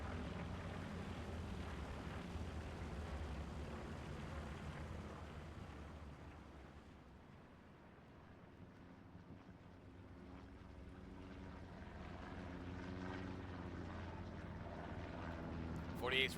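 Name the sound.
recon plane flying over in a tank video game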